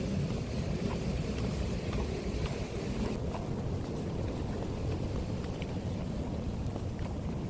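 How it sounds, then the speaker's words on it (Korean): Wind blows steadily outdoors on a walk near a golf course, a constant broadband rush buffeting the microphone throughout, with no talking. "바람 불어서 좋다."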